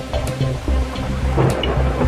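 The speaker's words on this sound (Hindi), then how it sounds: "बारिश है कि थमने का नाम ही नहीं ले रही" Cartoon rain pours down in a steady hiss while rolling thunder rumbles underneath, loud and continuous with no talking.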